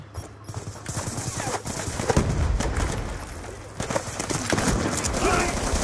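LMG machine gun fire in Call of Duty Ghosts, rapid bursts of automatic gunfire and scattered shots at mid distance, mixed under someone talking over the action.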